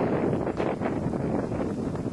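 Continuous cold wind by a lake buffeting the microphone, a low rumbling roar with gusty fluctuations and no voices.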